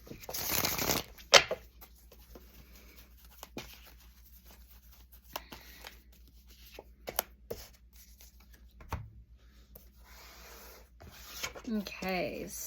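Tarot and oracle cards are shuffled and handled in close, quiet bursts: a brisk riffle at the start, then scattered soft flicks and slides, with another rustling shuffle near the end and a voice speaking at times.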